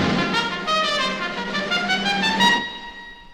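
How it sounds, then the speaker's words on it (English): A trumpet sounds a quick, bugle-like fanfare of rapidly repeated bright notes, like a military call, ending with a short ringing decay. "sometimes it can sound like a military salute"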